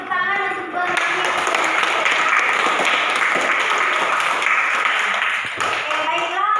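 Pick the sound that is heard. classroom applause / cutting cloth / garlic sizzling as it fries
classroom applause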